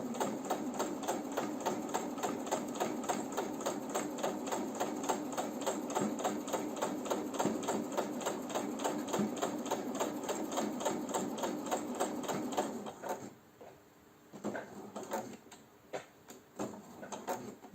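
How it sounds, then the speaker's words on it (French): A domestic sewing machine stitching fabric wipes slowly and steadily, its rapid regular needle clatter running close and continuous for about thirteen seconds before stopping, followed by a few short bursts of stitching. "je vais y aller assez lentement parce que je veux une couture vraiment précise et nette"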